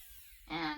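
A screw is driven in with a power driver during a metal seaming build, the motor whine starting abruptly halfway through and running steadily and close up to the end, with no talk.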